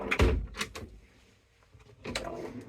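A storage drawer in a Rapido 7090DF motorhome slides open with a close thump followed by softer runner knocks, then a second rolling slide near the end, all fairly quiet and without talk.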